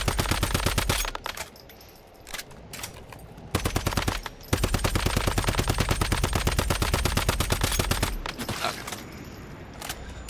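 Gunfire from the Once Human video game comes in repeated rapid automatic bursts, close and loud, separated by short pauses, with no speech over it.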